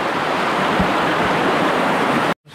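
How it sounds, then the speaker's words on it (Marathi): A small waterfall outdoors on a nature trip, a steady broadband rush of falling water that fills the clip evenly and cuts off abruptly near the end. "हा इथं धबधबा आहे. छोटासा धबधबा"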